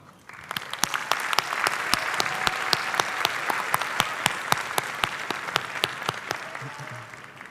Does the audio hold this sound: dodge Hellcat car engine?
no